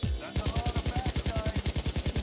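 Automatic gunfire in the video game Payday 2 rattles out in a rapid, evenly spaced burst of about twenty shots, loud and punchy over a faint game background.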